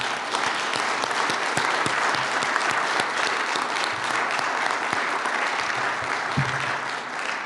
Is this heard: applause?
yes